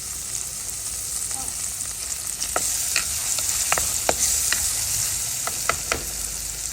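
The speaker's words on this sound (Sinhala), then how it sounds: "අඹ ටික දාලා කලවම් කරනවා නේද?" Mango pieces are stirred into a frying Sri Lankan curry. A steady hiss of frying sits under repeated sharp spoon scrapes against the pan, close and fairly loud.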